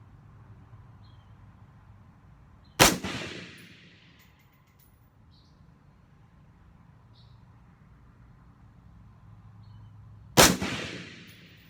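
A pink AR-15 rifle fired at an outdoor shooting range, two single loud shots several seconds apart, each with a sharp crack and a lingering echo over quiet background.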